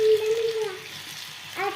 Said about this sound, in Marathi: सगळे फ्रेंच केलेले ना बटाट्याचे काप मी तळून घेतलेले